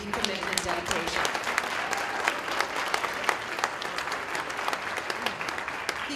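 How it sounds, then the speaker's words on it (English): Sustained applause from a large audience at a charity summit honoring staff, steady dense clapping with sharper individual claps standing out, lasting throughout at moderate volume. "I think they deserve a huge round of applause for their deep commitment and dedication."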